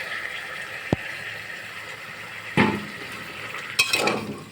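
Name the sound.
spice mix poured into a cooking pot and stirred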